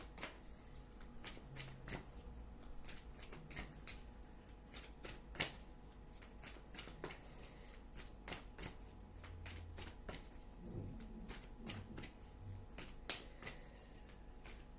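A deck of reading cards is shuffled quietly up close, a long run of soft rapid riffles and flicks with occasional sharper card snaps and no talking.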